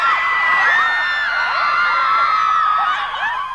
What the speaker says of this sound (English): more fans awaited, screaming and chanting